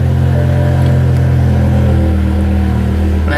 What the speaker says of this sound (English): car fires right up